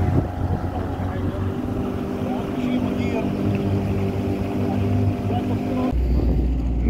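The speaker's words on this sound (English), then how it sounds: "Whole bunch of boats splashing us on each side." Motorboats run on a swamp waterway near the Euphrates-Tigris confluence, giving a steady close engine drone with tonal hum, wind buffeting and water noise, then a sudden shift to a lower rumble near the end.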